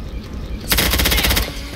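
A loud, rapid burst of machine gun fire in Left 4 Dead 2, evenly spaced shots rattling for about a second after a quieter background.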